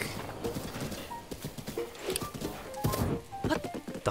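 Horse hooves in the Breath of the Wild video game, a steady rhythmic clip-clop of repeated hoofbeats at close range, moderately loud, with a voice speaking briefly over them.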